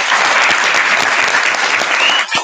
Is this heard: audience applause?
yes